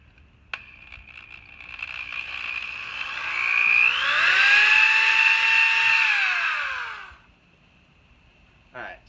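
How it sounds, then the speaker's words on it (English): A power drill bores a pilot hole into a wooden railing of a toy box, a close, whining whir that rises in pitch, holds steady for several seconds, then winds down, with short clicks at the start and end. "as we drill our pilot hole, we need to make sure that the pilot hole that we're drilling is in the middle of the bottom railing"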